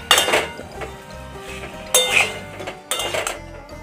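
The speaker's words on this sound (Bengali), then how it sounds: "ভেজে রাখা আলুটা আমি এর মধ্যে দিয়ে দিলাম, দিয়ে এবার আস্তে আস্তে নাড়তে হবে।" Pre-fried potatoes are stirred slowly in a pot, with three bursts of loud metallic scraping and clinking of a utensil against the pot over a low background hum.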